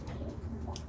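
Pigeons or doves coo softly and low, a couple of brief murmuring calls over a muted, rumbly background, with a faint higher chirp near the end.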